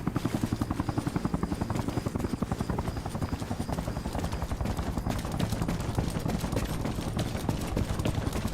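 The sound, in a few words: helicopter approaching in video game Arma Reforger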